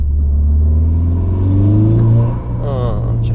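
Volkswagen Golf 6R with about 400 hp and a Revo filter intake, its engine held near 2000 rpm in a steady low rumble that swells slightly, then eases and picks up again, loud and close.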